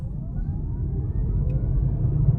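An electric Peugeot e-208 accelerates from 0 to 100 km/h with a steady low rumble and a faint rising whine, no talking.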